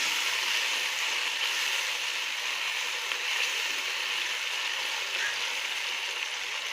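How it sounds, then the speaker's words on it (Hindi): Carrots and peas for a mixed vegetable pulao fry in a pan with a steady, even sizzling hiss that stays constant throughout, with no talking. "इसको 1 मिनट में फ्राई करूँगी पहले"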